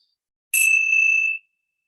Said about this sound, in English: let's close with the ringing of the bell